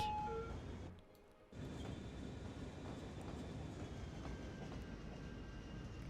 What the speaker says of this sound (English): Trains are working fantastic.